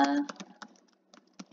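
Several soft keyboard taps on a computer keyboard as a search term is typed on a quilting pattern website, a short burst then scattered clicks, near and fairly quiet after a brief voice at the start.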